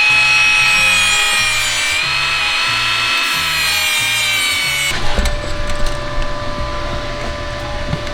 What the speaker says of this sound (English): we're using these little round sanding disc here to kind of put an arch to it